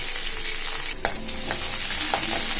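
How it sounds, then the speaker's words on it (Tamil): Ginger and garlic fry in oil in a kadai with a close, bright crackling sizzle and a few quick spatula scrapes and taps. No one is talking. "இப்போ இந்த இஞ்சி பூண்டை எண்ணெயில் வதக்கலாம்"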